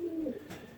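A racing pigeon cock coos once close by, a short low throaty call followed by softer murmuring, heard alone.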